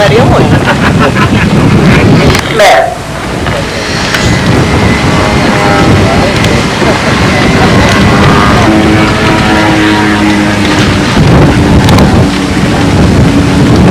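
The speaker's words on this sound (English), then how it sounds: "So the wind is starting to kick up now." Strong, continuous wind roars and buffets the microphone outdoors at a pylon racing event, loud and close throughout, with a voice faintly talking underneath.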